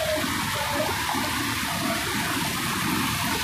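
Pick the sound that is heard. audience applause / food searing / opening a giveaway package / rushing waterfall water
rushing waterfall water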